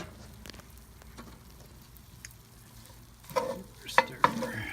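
Hot Italian sausage sizzles steadily on a Pit Boss ceramic grill, with a low frying hiss throughout and a few scraping, clanking stirs toward the end.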